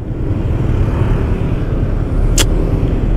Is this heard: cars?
yes